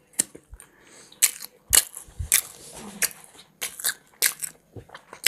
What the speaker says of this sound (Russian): Продолжаем экономить, продолжаем жрать, продолжаем чавкать.